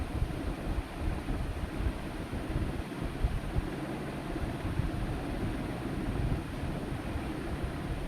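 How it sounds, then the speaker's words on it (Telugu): Steady, roaring wind buffets the microphone at Siddula Gutta hill temple in Armoor, with constant low rumble and broadband noise, continuous and fairly loud throughout with no voices. "గాలి అయితే ఫుల్ వస్తుంది"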